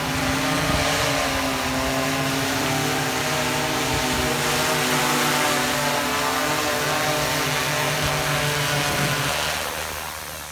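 A DJI Matrice 210 drone hovers nearby, its propellers giving a loud, steady, buzzing drone with layered whining tones that holds for about ten seconds and eases slightly at the end, with no talk.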